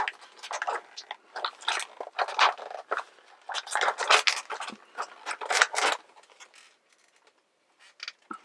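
Small Ritz-type crackers with cheddar cheese, ham and sriracha from a Lunchables pack crunch in a series of close, crisp bites and chews, followed by a near-silent pause and a few softer chews.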